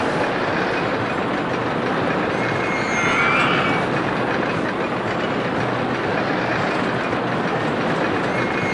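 A roller coaster train in the OpenRCT2 park-building game runs as a steady, loud rail rumble with clattering wheels that holds without a break, and no voices are heard.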